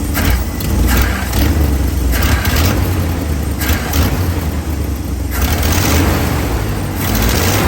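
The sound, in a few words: car engine revving during throttle response check after Holley 4412S carburetor tuneup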